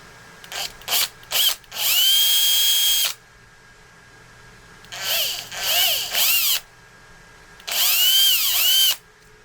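A power drill drives a short screw into a cyberpunk katana build, with a few quick trigger bursts followed by three sustained whirring runs that rise and fall, loud and close with no talk.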